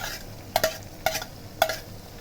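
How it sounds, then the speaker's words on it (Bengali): Chopped Bombay chilies are stirred into fried masala for a chili pickle, with three evenly spaced scraping strokes of a spoon in the pan over a soft, steady sizzle. "দিয়ে আমি আবার কিছুক্ষণ নেড়ে নিব"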